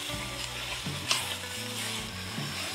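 Broccoli rabe with a little chili pepper sautéing in a pan, a steady sizzle with occasional scrapes of stirring, fairly close and moderate in level, with no one talking.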